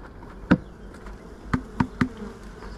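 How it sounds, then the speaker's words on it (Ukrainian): A honeybee swarm lifts off after a hive lid has come loose, a steady insect hum with several sharp knocks standing out, close and fairly quiet, with no talk. "Ось такий рій. І полетіла."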